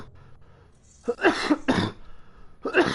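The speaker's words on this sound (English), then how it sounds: "I wasn't coughing all day." Several harsh coughs from one person, a short burst around the one-second mark followed by a second, then another near the end, loud and close with no talking.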